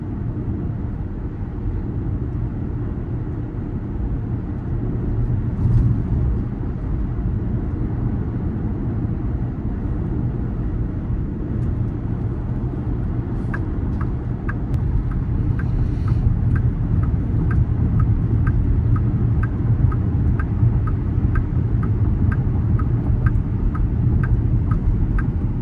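Steady low road and wind roar fills the cabin of an XPENG G6 Long Range electric car cruising at 100 km/h, continuous and even, with a faint rhythmic ticking joining midway.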